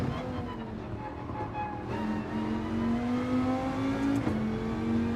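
Dodge Viper engine in Gran Turismo 7, holding a steady, droning rev whose pitch climbs gradually, dips briefly, then rises again, loud and continuous with no talking.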